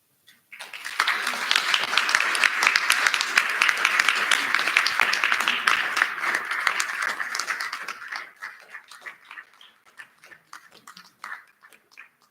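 Audience applause at an art exhibition opening swells into dense, loud clapping from a crowd, holds steady, then thins out into scattered, fading claps near the end, with faint voices underneath.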